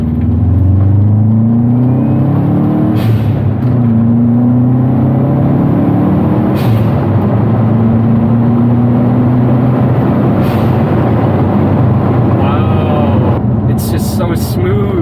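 A Subaru Forester engine accelerates while driving, a loud smooth hum whose pitch climbs in several rising sweeps. People talk over the engine in the car.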